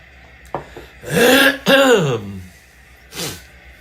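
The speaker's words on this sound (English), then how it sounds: "I got to clear my throat." A man clears his throat with a couple of loud, rasping bursts close to the mic, followed by a short trailing cough-like sound.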